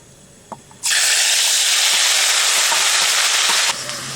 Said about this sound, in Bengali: পেঁয়াজটা আমি হালকা করে ভেজে নিলাম